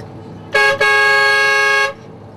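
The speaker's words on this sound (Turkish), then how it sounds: "Şoförümüz müthiş, önüne gelene kornayı basıyor" A car horn on a city street in Turfan, China, gives a short toot and then a long, loud, steady blast close by, with no voices.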